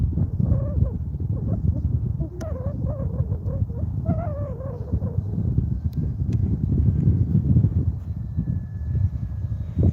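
Strong wind on a hilltop buffets the microphone in steady low rumbling gusts for the whole stretch, with faint tonal squeals and scattered knocks riding on top.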